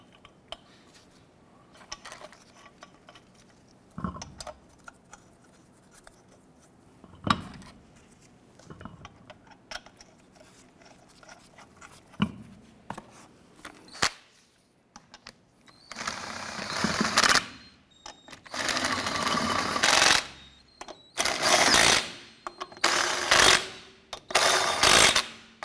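Lug nuts on a 1993-1997 Ford Ranger wheel are run in and snugged down with a ratcheting wrench. Sparse clicks and clanks come first, then dense bursts of rapid ratchet clicking, close and fairly loud.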